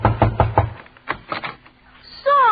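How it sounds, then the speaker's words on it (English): Several sharp knocks on a door in a 1940s radio comedy show, a quick cluster of raps followed by a pause and a second softer set, then a bright whistling tone at the end. "I'll knock on the door."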